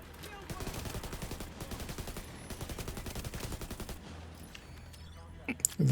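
Rapid automatic fire from the Optimus weapon in a video game, a steady stream of fast shots lasting several seconds before stopping, followed by a quieter lull and a couple of sharp bumps.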